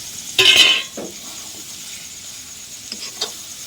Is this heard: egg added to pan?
yes